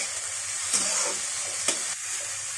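Cardamom, cloves and bay leaves crackle and sizzle in hot oil with a steady frying hiss, broken by a couple of sharp stirring scrapes close by.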